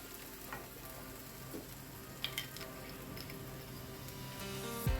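Vermicelli (sevaiyan) sizzles steadily in a pan as kewra water is added. A continuous soft frying hiss runs throughout, with a few faint clicks and a light thump near the end, and no talking.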